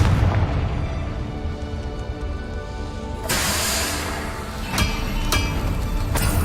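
A Confringo spell blast from Hogwarts Legacy: after a quieter stretch, a sudden booming explosion erupts, followed by a few sharp bursting pops.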